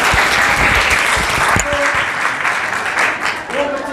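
Students at a career counselling session break into loud applause, a dense continuous clapping that fills the room, with a few voices audible over it.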